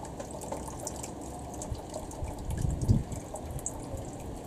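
Old brake fluid poured from a Citroen Saxo brake reservoir into a tray below, a faint trickling splash that swells briefly near the end.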